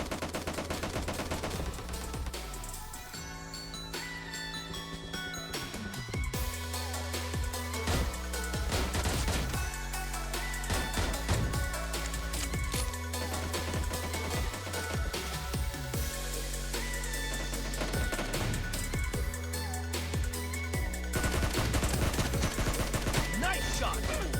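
Rapid gunfire in the PUBG Mobile video game, with bursts of automatic shots and single cracks repeating throughout over loud game sound and music, fairly close and continuous.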